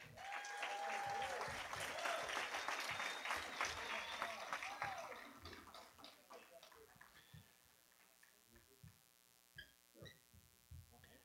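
An audience at an awards banquet applauds loudly, a dense wash of clapping that fades into scattered claps and a steady hum near the end.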